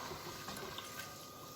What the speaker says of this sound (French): Ensuite, vous mettez votre eau